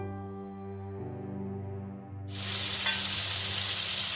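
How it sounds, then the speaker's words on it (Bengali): Water poured into spices frying in a hot pan for a taro-leaf curry bursts into a loud, steady sizzle and hiss that swells suddenly after a quieter stretch of frying and holds to the end. "এখন সামান্য একটু ঝোলের পানি দিব।"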